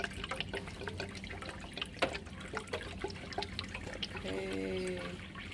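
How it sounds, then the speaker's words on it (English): Water pours and trickles into the tanks of a Peri-Pro film processor, with a rising, steady filling sound near the end, while a person talks over splashes and small drips. "that is the tanks, filling up the tanks"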